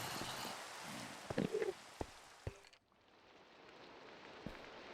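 Steady rain falling in Minecraft, a faint even hiss with a few soft taps and clicks, briefly dropping out before resuming.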